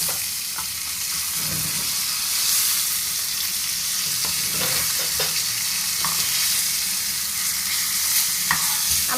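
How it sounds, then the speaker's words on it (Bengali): A fish head frying hard in a pan, a dense, continuous sizzle broken by several scraping clinks as it is turned and flipped, no speech. "আমি খুব সুন্দর করে মাছের মাথা ভাজতে পারি, অনেক সুন্দর করে উল্টায়া পাল্টায়া।"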